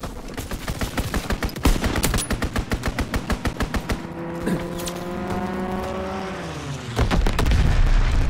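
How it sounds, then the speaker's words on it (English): An aircraft strafing run in Call of Duty WWII rakes the ground with rapid, evenly spaced bursts of machine-gun fire, loud and close, then a droning engine sweeps past with a falling pitch before another heavy burst. "Strafing run inbound."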